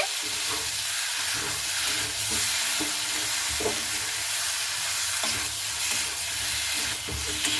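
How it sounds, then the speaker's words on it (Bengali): Potato and papaya stirred and frying in a pan, a steady loud sizzle with repeated scraping strokes of the spoon throughout. "খুব ভালো মতো করে আমি নাড়াচাড়া করে নিচ্ছি"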